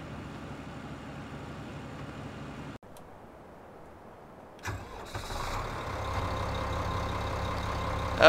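A tractor engine cranks over and fires up in Farming Simulator 15, catching after a brief pause and then settling into a steady, fairly loud idle with no voices over it.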